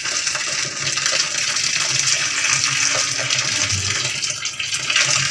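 Milk poured into a cooking pot for rice kheer makes a continuous splashing, gushing stream throughout, close and fairly loud, with no talking.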